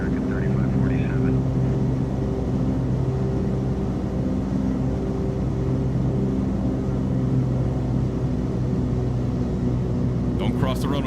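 A Flysimware Cessna 414 twin-engine piston aircraft in Microsoft Flight Simulator 2024 drones on with a continuous, even engine hum, with faint voices over it near the end.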